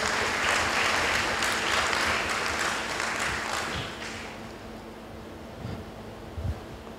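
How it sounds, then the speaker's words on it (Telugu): A church congregation claps together during a sermon, dense applause for about four seconds that then fades into quieter scattered claps and room noise. "చప్పట్లు కొట్టండి ఒకసారి అందరూ"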